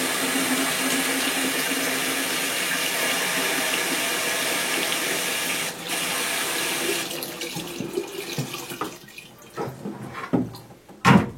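Water from a tap pours steadily as something is rinsed through a strainer, a continuous close splashing that breaks off partway and gives way to scattered drips and clattering handling sounds.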